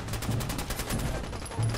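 Rapid gunfire from a Fallout 4 firefight against super mutants, a steady run of repeated shots with low thumps running through the whole stretch.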